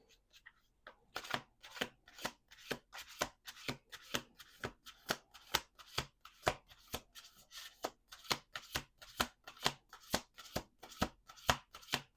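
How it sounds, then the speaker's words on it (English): A tarot deck is shuffled in a rapid, regular rhythm of soft slaps and riffles, close by, with no voices. "Last shuffle."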